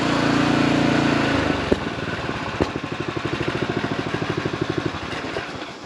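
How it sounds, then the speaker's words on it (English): A pressure washer engine runs loud and close, then drops into a quick rhythmic chugging as it slows, with steady mechanical clatter over a continuous hiss. "Let me walk over here and shut off this pressure washer in the hose."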